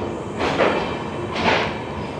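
The Amrit Bharat inaugural special train pulls out of a coaching yard, two swelling rushes of rolling noise over a steady rumble, fairly close.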